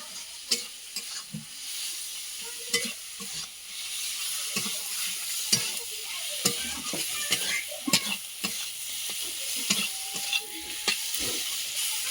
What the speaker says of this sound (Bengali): মশলাটা কিন্তু কড়াইতে সুন্দরভাবে কষিয়ে তৈরি করে নেবো